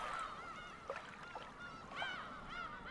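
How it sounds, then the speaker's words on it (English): Seagull cries from the Umineko When They Cry visual novel: a few soft, wavering gull calls drift over a constant hushed ambient background, fairly quiet and distant. "I hear the seagulls."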